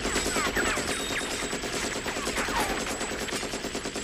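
Sustained rapid gunfire from the 1985 film Rambo: First Blood Part II, a loud, dense rattle of shots fired one-handed from a single gun, running continuously without pause and mixed with movie soundtrack noise.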